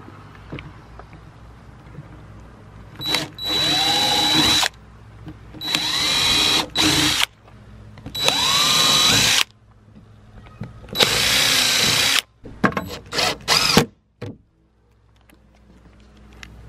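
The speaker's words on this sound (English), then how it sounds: "And get them all pre-drilled first." Power drill pre-drilling holes in trim for barn windows on a post-and-beam barn: several loud, close bursts of a high whining motor, each a couple of seconds long, separated by short pauses with faint handling noise.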